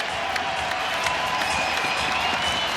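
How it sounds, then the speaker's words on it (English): Audience applause and crowd noise fill a freestyle wrestling event arena, a steady dense wash of clapping with some cheering, loud and continuous throughout. "Everyone, stand up and give your applause for Ben Askren."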